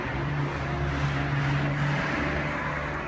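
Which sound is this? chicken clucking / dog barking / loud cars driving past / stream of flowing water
loud cars driving past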